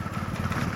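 A motorcycle runs close by while being ridden, its engine giving a steady, throbbing low rumble with a continuous pulsing beat across the short moment.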